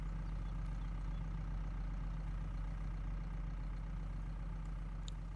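A tractor engine idles in Farming Simulator 22, a constant low, even hum held at the same level throughout with no voices.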